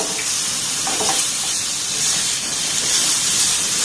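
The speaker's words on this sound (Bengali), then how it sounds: "এই পর্যায়ে এখানে টমেটো দিয়ে দেবো একটা ছোটো সাইজের টমেটো আমি টুকরো টুকরো করে কেটে নিয়েছি" A small chopped tomato is frying among other ingredients in a pan, giving an even, steady hiss with a faint clink early on and no talking.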